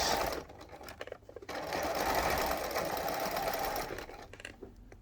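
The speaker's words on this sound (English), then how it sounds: "You edge stitch, meaning top stitching near the edge." A sewing machine edge stitches an apron up close, its needle whirring in a steady, fast mechanical run that starts after a few brief stuttering stitches and slows near the end.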